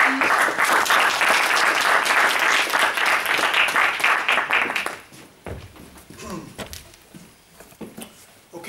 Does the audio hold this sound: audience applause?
yes